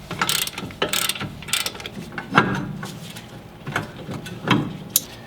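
A hand ratchet with a 19 mm socket works on a BMW E30's caliper bolts, giving several quick bursts of close, crisp clicking separated by short pauses, moderately quiet.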